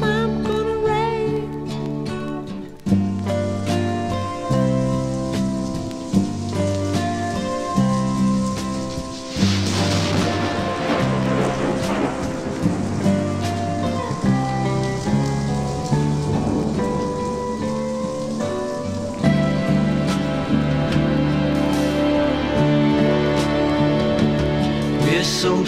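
Rain sound effect in a 1971 pop song played from a 45 RPM vinyl record, a steady patter of falling rain mixed with the music and a singing voice, continuous throughout.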